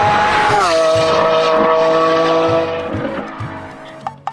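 A white Lamborghini sports car engine roars loudly with strong harmonic tones and shifting pitch, joined by tire squeal, then the sound eases off and fades toward the end with a couple of sharp clicks.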